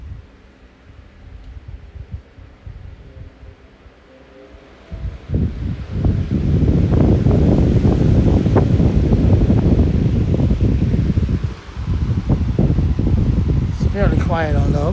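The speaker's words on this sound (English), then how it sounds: "Finally, a fan that has a startup sound." A 20-inch Lasko Max Performance high velocity fan starting up: after a quiet low hum, a sudden jump into a loud, steady rushing roar of moving air with buffeting, close to the microphone, continuing to the end.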